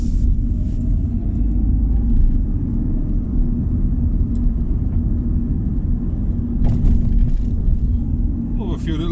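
A Smart Fortwo turbo, a 900cc car on premium unleaded with very firm handling, rolling over road bumps: a heavy low cabin rumble with a few thumps and rattles, loud and close, with someone talking over it.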